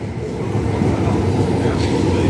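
A metro train standing at a station platform at Longbenton or South Gosforth, a loud, dense rumble and hiss throughout with faint murmuring voices under it.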